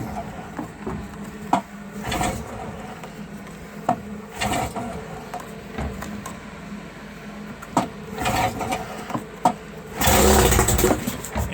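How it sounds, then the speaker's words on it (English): A 2-stroke outboard motor is pull-started in repeated tugs, each a short rasping burst, with a louder surge near the end as it catches; a person speaks quietly in between. "this might take a few pulls to get going"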